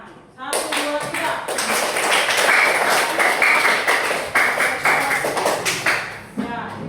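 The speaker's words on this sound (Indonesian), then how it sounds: "Ibu guru minta kita semua tepuk tangan." A class of children claps together in a dense, sustained burst of many overlapping hand claps lasting several seconds, fairly close, with a few voices mixed in before fading at the end.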